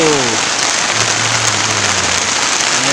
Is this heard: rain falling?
yes